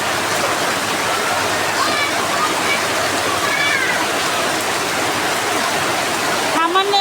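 Heavy rain roars outside a kitchen during cooking, a loud, continuous wash like rushing water, with a faint cat meow and a short scrape near the end.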